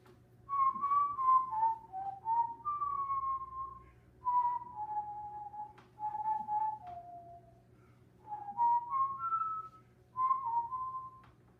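Someone whistles a slow melodic tune in clear phrases separated by short pauses, close and steady over a faint low hum.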